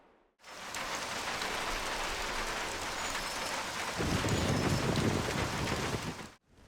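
The rain weather effect in the game Mafia is a dense, steady downpour pattering loudly on surfaces throughout. It grows heavier and rumbles lower partway through, then cuts off abruptly.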